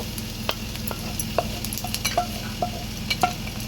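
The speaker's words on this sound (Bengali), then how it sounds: "পেঁয়াজটা আর একটু ভেজে নেব" Onions frying in a pan at home, a soft continuous sizzle punctuated by repeated light clinks and scrapes of a utensil stirring, close and fairly quiet.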